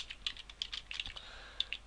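Code being typed on a computer keyboard during a Unity 3D game tutorial, an irregular run of light, close keystrokes at low volume.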